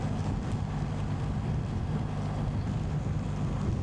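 Steady wind buffeting a motorcycle moving along a Hungarian motorway in a crosswind, a continuous low rumbling roar with no pauses and no talk.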